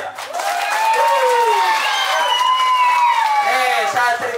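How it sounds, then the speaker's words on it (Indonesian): An audience at a one-day English and character camp in Bekasi claps and cheers, a loud, dense burst of applause with many overlapping voices shouting for a few seconds. "Tepuk tangan dong buat saya."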